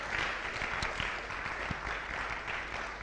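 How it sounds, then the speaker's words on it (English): An audience claps steadily for a speaker coming up at a tech talk and web development graduation, producing a short, even wash of applause from many hands, fairly distant and without voices. "Let's clap for him as he comes."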